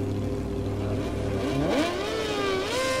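A motorcycle engine in the racing video game MotoGP 17 revs up loudly, its pitch climbing steadily, then dropping briefly and rising again in a continuous close roar.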